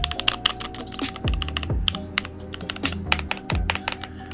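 Rapid clicky keystrokes on a Keychron K8 mechanical keyboard, close and crisp, irregular bursts of taps with a few heavier thocks from larger keys.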